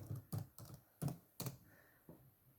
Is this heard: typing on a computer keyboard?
yes